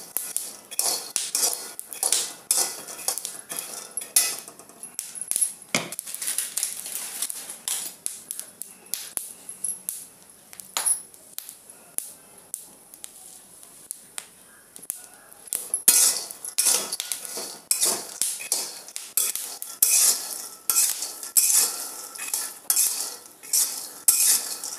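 Peanuts roasting in a pan for ladoo are stirred continuously, with loud, close scraping and rattling of the nuts and a spoon against the metal that goes on without pause and with no voices.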